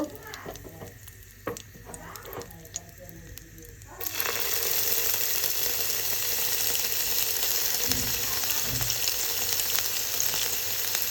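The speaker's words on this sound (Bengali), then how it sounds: "এখন আমি ফার্স্টে দিয়ে দিব গরম মশলা। এই তো এখন তেলটা মশলাটা একটু গরম করব" Garam masala spices hit hot oil, setting off a loud, steady sizzle that swells suddenly partway through and then holds a dense frying hiss, with a few soft clinks.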